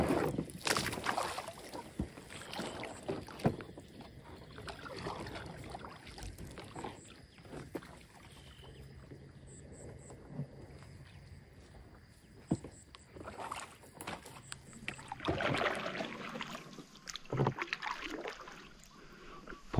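A small boat moving over water on a fishing trip after giant snakehead, with irregular splashes, knocks against the hull and gusts of wind buffeting the microphone throughout.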